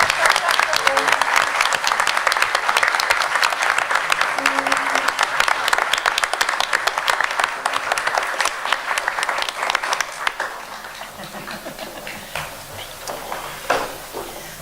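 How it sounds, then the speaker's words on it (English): An audience at a board of education meeting applauds a newly promoted vice principal, steady dense clapping that tapers off toward the end, with a few isolated claps as it fades. "So we can clap now."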